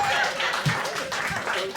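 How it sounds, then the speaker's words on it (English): Brief clapping from a comedy show audience, a short dense patter of hands mixed with crowd voices and murmurs. "Clap your hands if you got some kids."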